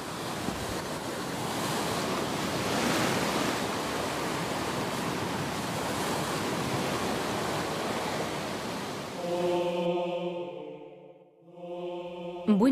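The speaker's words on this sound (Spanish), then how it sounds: "Las productivas y con frecuencia movidas aguas de las pequeñas islas rocosas que conforman el parque" Ocean waves wash steadily against rocky island shores in a continuous, loud roar of surf that fades near the end, where a brief tonal sound takes over.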